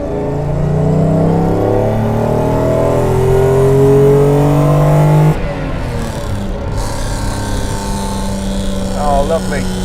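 A Mercedes-Benz 300 SL engine revs hard and loud, the roar rising and holding before dropping to a lower, rougher idle with faint talk underneath.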